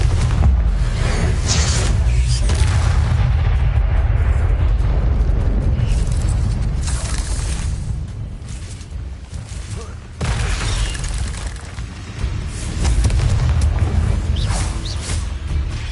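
Repeated Confringo spell explosions from the video game Hogwarts Legacy boom loudly and continuously in a dense barrage, with brief lulls and bursts of whooshing blasts throughout.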